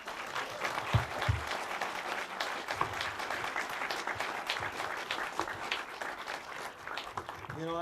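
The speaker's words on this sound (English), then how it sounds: "Can we give these gentlemen a round of applause?" An audience at a wildfire panel discussion applauds in a sustained, dense burst of clapping that continues throughout, with some voices mixed in.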